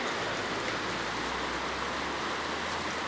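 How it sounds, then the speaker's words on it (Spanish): Steady rain pours down in a continuous, even hiss, close and fairly loud, heard from beneath a roof overhang. "se largó a llover, así que estoy acá abajo de este alero"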